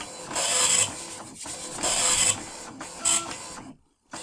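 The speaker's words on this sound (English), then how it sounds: "So we can actually see that the printer does work." A dot matrix printer prints a test page, its rasping print-head passes coming in loud close bursts with short gaps before falling silent.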